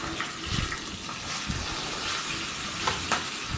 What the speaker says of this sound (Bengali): খুব কড়া করে ভাজবো না, হালকা হালকা করে ভাজবো।